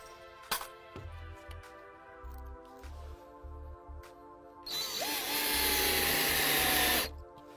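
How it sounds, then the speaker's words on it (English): Power driver sinking stainless steel screws into composite decking planks, with a short buzz early on and a louder sustained whirring drive near the end, among lighter handling knocks. "I start to screw them down just the same using the stainless steel screws"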